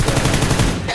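Rapid automatic gunfire from a video game, dense and continuous for about a second, loud and close with bursts of shots packed together.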